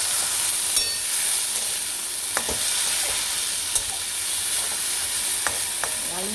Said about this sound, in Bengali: এই যে আলু ভাজা বসিয়ে দিয়েছি বন্ধুরা